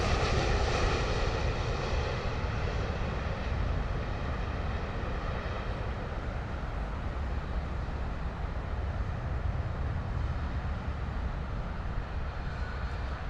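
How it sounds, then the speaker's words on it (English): An Air Canada airliner landing at London Heathrow, its continuous loud engine roar and broad rumble slowly easing as it passes, heard at length with no talk. "Bring it down, Air Canada,"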